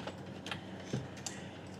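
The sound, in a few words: computer keyboard key press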